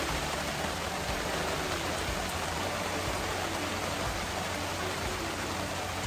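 Heavy rain from Tropical Storm Nicole falls steadily around an overland camping setup, a dense, even hiss with no pauses or voices.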